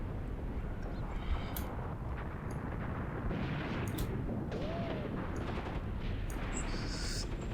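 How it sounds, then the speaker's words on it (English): Artillery rumbles and booms in Graviteam Tactics, a World War II tactical battle at Kolomak, heard as a dense, steady barrage from a distance with no clear separate shots. "it looks like that artillery wasn't wasted after all"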